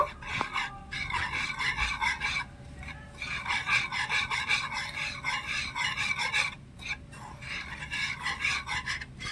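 Powdered milk and lukewarm water are stirred together in a wok, making a rhythmic, close scraping and rasping of the utensil against the pan in repeated strokes, with brief pauses.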